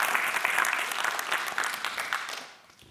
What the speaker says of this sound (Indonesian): Berikan tepuk tangan buat tim kita di sini, luar biasa.